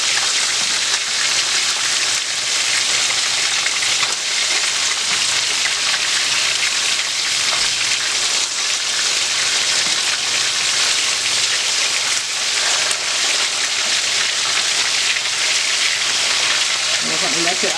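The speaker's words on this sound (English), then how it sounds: "My fish has been frying about 10 minutes on one side" Fish fries in hot oil in a pan, giving a loud, dense, continuous crackling sizzle that stays steady throughout, with faint talking underneath.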